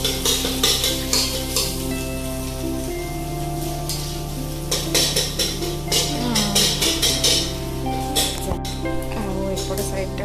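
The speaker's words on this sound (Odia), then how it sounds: "ଅଣ୍ଡା ଭାଜୁଛି" Eggs frying in a hostel kitchen pan, a steady close sizzle with scraping and stirring clatter over a low hum, voices murmuring now and then in the background.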